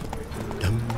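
Hooves of Roach, Geralt's horse in the video game Witcher 3, clop in a brief trotting rhythm over a steady ambient game soundscape with a low rumble near the end.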